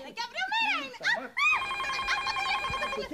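A telephone bell rings in repeated bursts during a Greek TV comedy episode, loud and close, with people talking over the start before the ringing dominates.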